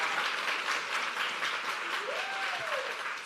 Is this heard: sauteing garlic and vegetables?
no